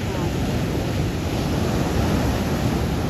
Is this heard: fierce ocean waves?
yes